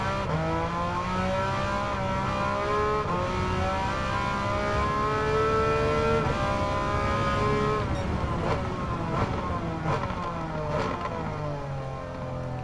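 A race car in Gran Turismo 7 revs through its gears, the engine pitch climbing and shifting repeatedly in a continuous, fairly loud drone, then a series of quick upshifts near the end.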